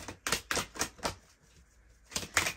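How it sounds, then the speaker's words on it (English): Oracle cards pulled and shuffled from a deck, giving a run of sharp, quick papery slaps and flicks in an irregular rhythm, close and fairly quiet, with a short pause before a final few snaps. "Let's pull your oracle cards."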